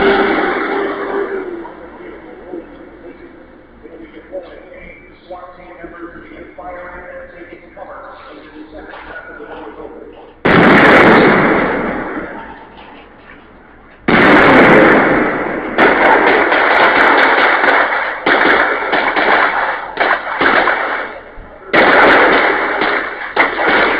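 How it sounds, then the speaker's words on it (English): Bombs let off at a police martial law and civil unrest training event, heavy booming blasts bursting out in several loud, sustained rumbling waves, with crowd noise and talk in the mix. "They let off bombs."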